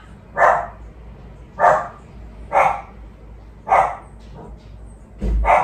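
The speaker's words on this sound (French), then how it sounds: "Désolée, il y a mon chien." A pet dog barks at someone outside the house, five loud, evenly spaced barks close by, with no talking.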